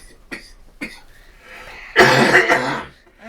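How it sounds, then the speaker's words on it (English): A person coughs, with two short light coughs followed by a louder, harsher burst of rough coughing and throat clearing, close to the microphone. "It makes me cough."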